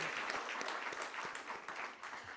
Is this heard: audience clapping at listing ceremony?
yes